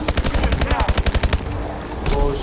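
Rapid automatic gunfire shooting an enemy in Call of Duty Advanced Warfare, a close burst of about a dozen evenly spaced shots that stops, followed by quieter game sounds and a final brief shot.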